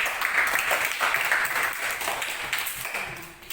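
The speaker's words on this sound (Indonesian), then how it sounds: "Kita tepuk tangan untuk Popon dulu." A classroom of children claps together, a dense burst of applause that fades slightly over a few seconds, with no talking.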